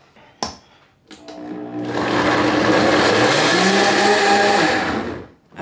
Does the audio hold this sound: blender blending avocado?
yes